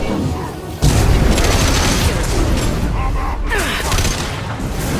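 Weapon fire in the game Mass Effect 2: a sudden loud boom starts a dense, sustained barrage of shots and mechanical clatter that continues to the end, with a voice speaking beneath.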